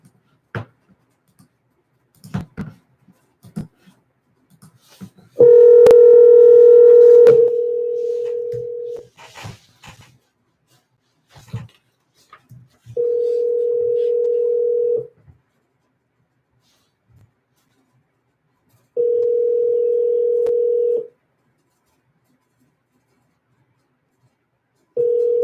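A phone call placed to a cell number: a short burst of dial tones gives way to a long ringback tone, then three more evenly spaced ring tones separated by silence, with faint clicks and handling noise between.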